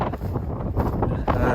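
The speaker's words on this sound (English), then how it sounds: "So a bit windy today, but dry, which is good." Wind gusting across an exposed South West coast path near Gurnards Head, a steady low roar of buffeting on the microphone with surges and a strong gust toward the end, no talk.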